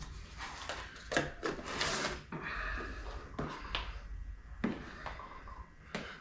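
Banana pudding mixture folded by hand in a bowl, giving soft, irregular scraping and rubbing strokes with brief louder swipes.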